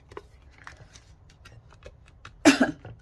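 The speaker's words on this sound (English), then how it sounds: "It's this cough again." One short, sharp cough comes from a person near the end, after quiet with faint ticks and rustles.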